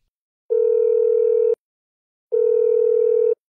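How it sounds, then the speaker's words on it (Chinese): A telephone ringback tone plays two clean, steady beeps of about one second each, separated by a silent gap, loud and close. "给小凤打个电话，看一下他"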